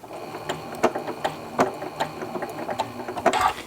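Sewing machine stitching across fabric while adding pleats and tucks, a close, rapid mechanical chatter with rhythmic ticks and thumps, running continuously with slight surges, no talking.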